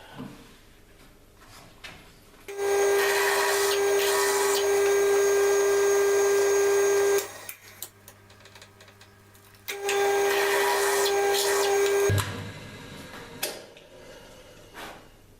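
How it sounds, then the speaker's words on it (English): A power drill boring a hole in metal whines at a steady high pitch in two long runs, about five and three seconds, separated by a short pause, close and loud with no talk. "I have to drill the big hole first."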